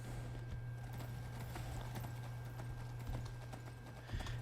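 Horse hooves clip-clop steadily on the ground in Skyrim, an even, close walking rhythm over a constant low game hum, with no talking.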